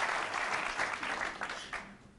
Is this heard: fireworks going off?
no